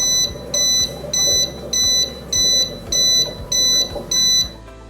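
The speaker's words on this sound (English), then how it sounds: "it flashes red and gives an audible alarm that sounds like this." Loud electronic alarm from an aquarium controller box beeping in a steady repeating pattern, about eight sharp high-pitched bursts evenly spaced, close and insistent over a low background hum.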